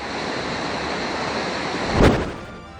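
Floodwater rushing through a normally dry creek during heavy, continuous rain in Bulacan, a steady broadband roar with a louder surge near the end, no voices.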